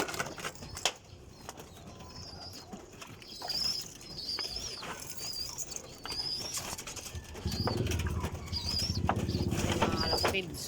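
Pigeons in a loft give soft, repeated coos and brief bursts of wing flapping, fairly close, with a rustling, fluttering build-up toward the end.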